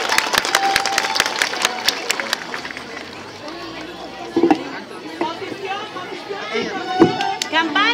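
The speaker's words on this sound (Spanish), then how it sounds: "Con el aplauso del público, los recibimos." An audience at a school choir performance in Cotacachi applauds, giving dense rapid clapping that is strongest early and then thins out amid crowd murmur and scattered louder claps.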